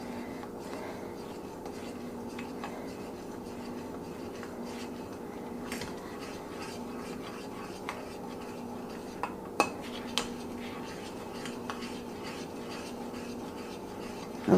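A spoon scrapes and clinks against a pot while grits and eggs are stirred, faint irregular taps and scrapes over quiet background hum, with a sharper clink near the end.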